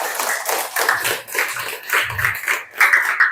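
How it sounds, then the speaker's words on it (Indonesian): Children in a classroom clap together in a lively, uneven burst. The claps come fairly close and loud, with slight swells and dips across a few seconds and no clear talk. "Tepuk tangan untuk kalian semua."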